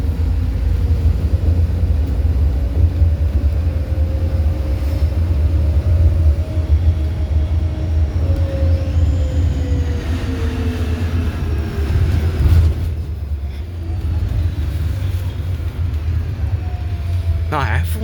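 A 2020 MAN Lion's City bus with a repaired hydrodynamic retarder rumbles steadily while riding, its low engine drone constant, with gear and motor whines rising and falling and a brief clatter midway.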